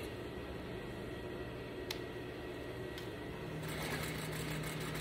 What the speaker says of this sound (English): I'm just back stitching the V